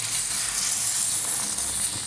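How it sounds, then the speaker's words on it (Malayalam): Chicken stock is poured into a hot pan of sautéed chicken curry base, and a steady, bright sizzling hiss runs unbroken and fairly loud throughout. "നമുക്കിതിലേക്ക് ചിക്കൻ്റെ വെള്ളം ഒഴിച്ചു കൊടുക്കാം"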